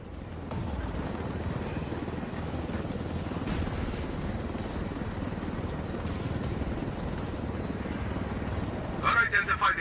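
Helicopter flying in the video game Ghost Recon Wildlands, a steady loud rotor and engine drone that holds throughout, ending with a brief rhythmic pulsing burst.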